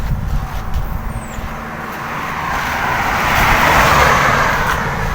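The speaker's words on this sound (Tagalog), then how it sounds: "So padalin lang muna natin yung mga sasakyan." Cars pass along a roadside, a broad traffic rush swelling from moderate to louder and nearer toward the end, with steady low road rumble throughout and no talk.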